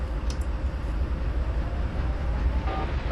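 Trains rumble through a busy rail yard in the Train Simulator 2012 game, giving a steady low mechanical drone with faint clicks and a brief high squeal near the end, and no talking.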